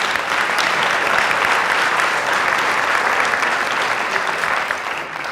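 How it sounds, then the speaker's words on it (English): An audience at a moderated forum and panel discussion on gun violence in America applauds in a full, even wash of clapping that holds for several seconds before tapering slightly at the close. "please give a round of applause to Dave and Andrew"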